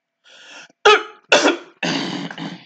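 A person coughs several times in quick succession, close and loud, with a short rough throat-clearing sound before the sharper, harsher coughs.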